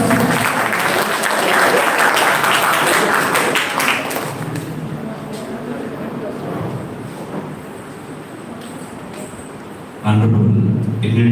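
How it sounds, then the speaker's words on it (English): An audience applauds loudly to welcome a college principal at an academic event, the clapping strongest at first and thinning out, then a burst of louder noise near the end. "Please give him a big round of applause."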